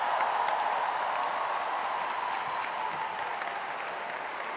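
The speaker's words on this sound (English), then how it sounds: "let's send off a big round of applause, Team USA" A large arena crowd at the WNBA All-Star Game applauds and cheers for Team USA, a loud, sustained roar of clapping and voices that holds evenly throughout.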